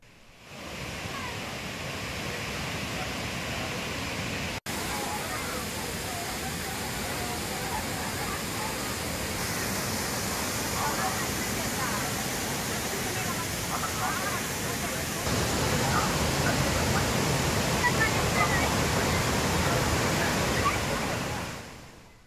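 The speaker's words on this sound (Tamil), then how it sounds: "தற்பொழுது நல்ல சீசன் நிலவுவதால் தண்ணீர் ஆர்ப்பரித்து கொட்டுகிறது" Water gushes down Thirparappu waterfall in full flow, a loud, dense, continuous roar that holds steady and grows slightly heavier toward the end.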